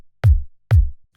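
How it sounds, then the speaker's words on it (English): Two evenly spaced techno kick drum hits, now with an extra click layer stacked on top, giving a brighter, snappier attack over a deep booming low body, heard alone. "so we add another click layer like this,"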